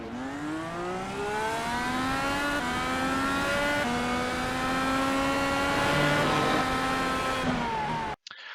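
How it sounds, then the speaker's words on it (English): A race car performs a burnout while pulling out of its pit stall onto pit road, its engine wailing in a sustained high rising and falling scream with tire squeal, loud and close throughout, cutting off abruptly at the end. "Bit of a burnout as they come out of their pit stall and as they come out of pit road."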